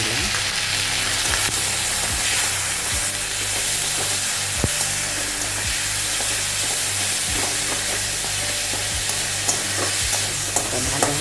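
Meat pieces being fried in a pan with ginger-garlic paste, salt and a little turmeric for a Bengali mango chicken, with steady close sizzling throughout and regular scraping stirs of a spatula.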